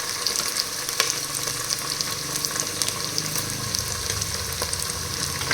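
Ginger garlic paste frying in a pot for pulao gives a steady, dense sizzle with a few crackling pops, close and loud, continuing without pause and with no talk.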